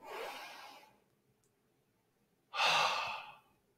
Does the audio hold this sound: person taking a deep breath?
yes